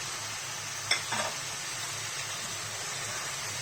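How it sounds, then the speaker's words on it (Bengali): Vegetables with carrot and tomato sizzle under a constant hiss in a pan, and a utensil clinks once and then scrapes briefly as they are stirred. "এখন সবজিটাকে ভালো করে মিক্স করে নিচ্ছি"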